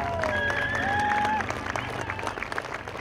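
Outdoor crowd applause at a Little League opening day parade, a steady wash of clapping with scattered whistles and cheers, voices mixed in throughout.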